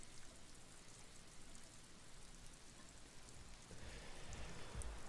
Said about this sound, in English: It's the thing with rain, you hear it before you see it.